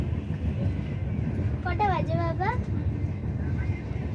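A long-distance train journey to Assam fills the background with a steady, low rolling rumble throughout, while a voice speaks briefly over it near the middle.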